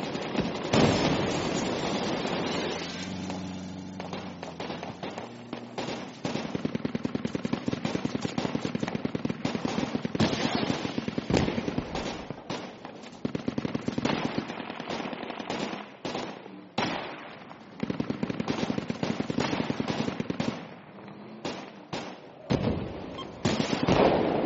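Mortar fire in a video game's desert battle, loud and relentless: booming blasts mixed into dense rapid gunfire, bursts crowding one another with brief dips, close and continuous throughout with no talking.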